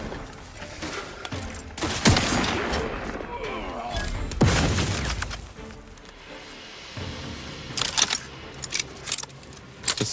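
A sniper rifle fires in the video game The Outer Worlds 2, with two loud, booming shots a couple of seconds apart. Each shot has a long, ringing tail, and sharper impacts and clatter follow in a noisy game scene.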